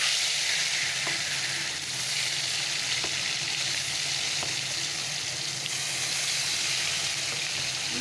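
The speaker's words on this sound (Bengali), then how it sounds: "আলুগুলো ছেড়ে দিই চলো তেলটা গরম হয়ে গেছে আজকে সর্ষের তেল দিয়ে রান্না করছি" Potatoes frying in hot mustard oil, a continuous, fairly loud crackling sizzle with a few faint taps of stirring and no speech.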